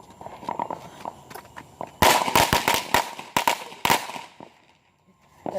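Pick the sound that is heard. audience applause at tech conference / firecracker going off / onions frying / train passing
firecracker going off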